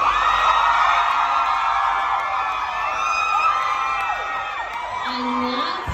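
A crowd at a Magic Mike Live show screams and cheers loudly and continuously, with high shrieks and whoops layered over a dense roar.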